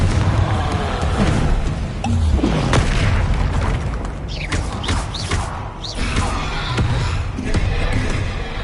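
A Confringo fire spell blasts in the Hogwarts Legacy game with loud booming bursts and thuds amid dense battle noise, running continuously and heavily throughout.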